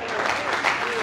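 Hands clapping in a church service, a dense burst of applause-like claps from a congregation, loud and continuous over about a second.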